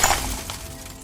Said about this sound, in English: a brick had smashed my window